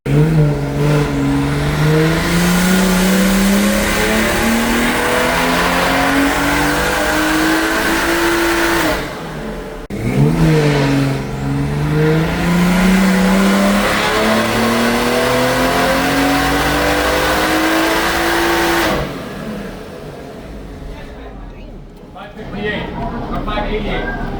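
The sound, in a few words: 2017 BMW 340i with aftermarket exhaust revving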